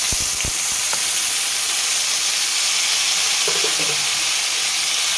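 Pieces of bitter gourd drop into hot oil and sizzle loudly and evenly throughout, a dense close frying hiss with a couple of sharp clicks at the start and faint stirring scrapes later.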